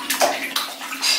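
Running water splashes and gushes briefly into a tub or basin, a close, bright hissing flow in a few uneven surges.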